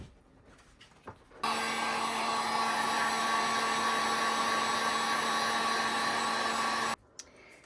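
A hair dryer blows steadily on a homemade photo hanger for about five and a half seconds, a loud constant whir with a steady hum, switching on abruptly and cutting off, with quiet handling before and after.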